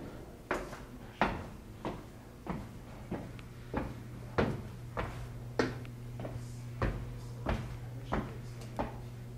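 Inside the engine room of the RMS Queen Mary ocean liner, a metal door produces a steady series of sharp knocks and clanks, roughly one every half second, over a low mechanical hum.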